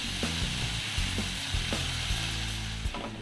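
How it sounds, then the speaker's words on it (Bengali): Matar paneer masala sizzles steadily in a pan while being stirred with coriander leaves, a continuous frying hiss broken by a few soft scraping strokes, close and moderately loud with no talking. "এটা নাড়তে নাড়তে আর 1 বাটি যে ধনে পাতাটা আছে সেটা আমি এর মধ্যে অ্যাড করছি"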